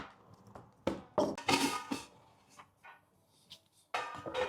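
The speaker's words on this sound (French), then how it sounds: "je vais couper l'oignon" Knife chopping an onion on a board in a home kitchen, a burst of sharp irregular blade strikes and clatter, fairly close and alone, with a louder flurry of cuts at the end.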